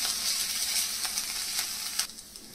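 Onions frying in a pan with a spoonful of ginger garlic paste for mixed vegetable jalfrezi, a steady close sizzle with a few sharper crackles and light stirring scrapes.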